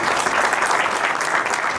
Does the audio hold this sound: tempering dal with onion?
no